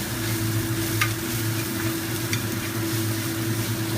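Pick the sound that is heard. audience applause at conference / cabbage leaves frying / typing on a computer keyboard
cabbage leaves frying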